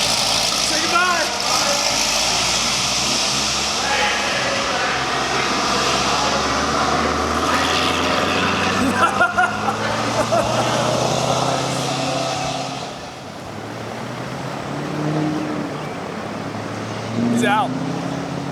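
Corvette engine idling with a deep rumble, then revving and pulling away as the sound fades into the distance, heard under steady voices nearby.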